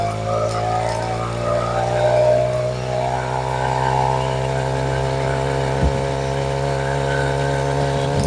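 A four-stroke motorized BMX bike engine hums steadily while riding through Phoenix streets, a loud continuous drone with shifting revs and a brief bump near the end.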